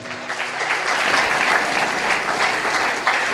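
An audience at an Independence Day sermon breaks into dense, sustained applause close by, steady clapping rising quickly and holding until the end.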